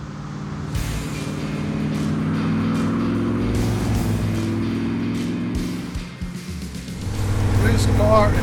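A 1965 Shelby Cobra replica, a Superformance MKI, driving with a steady loud engine drone and rumble heard from nearby, shifting in pitch, with a voice talking over it throughout.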